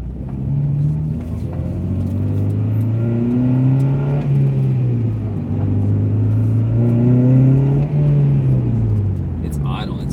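Car engine idling high at about 2000 RPM, with a worn, clunky tie rod also noted: a steady loud engine drone whose pitch slowly swells and dips, with someone talking over it.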